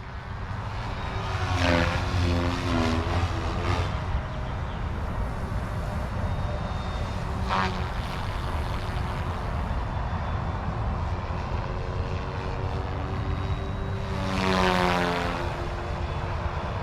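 A Goosky RS4 Venom RC helicopter makes big, low forward passes, its rotor whine swelling and fading as it sweeps past a few times over a steady outdoor hum, with no talking.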